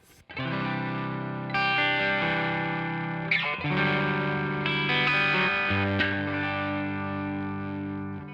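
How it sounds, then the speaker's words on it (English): Catalinbread Karma Suture fuzz pedal set with gain about halfway, distorting a sustained guitar chord with a fuzzy low end; steady held chords change a few times, loud and alone with no talking. "the bass end has that fuzzy distortion to it"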